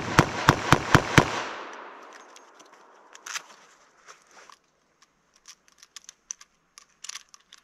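.38 Special revolver fired at a target: five sharp, loud shots in quick even succession, followed by quieter clicks and handling sounds of reloading.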